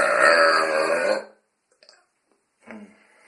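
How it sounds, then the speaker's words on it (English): A single loud, long, throaty burp from a man close up, followed by a short silence and a fainter second sound. "This makes insanely loud burps."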